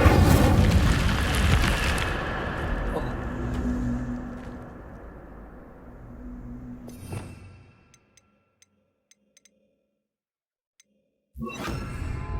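Incendio fire spell burst in the video game Hogwarts Legacy: a loud roaring whoosh of flame that fades gradually over several seconds, then near silence with faint ticks before another burst starts at the end.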